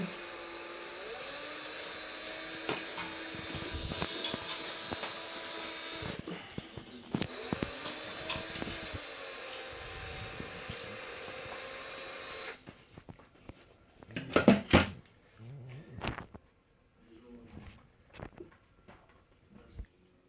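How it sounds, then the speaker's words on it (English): A steady whirring drill motor drone runs for several seconds while twisting cable conductors together, then cuts off, followed by quieter clicks, handling noises and a few brief rattles. "here we've twisted the cable with the drill"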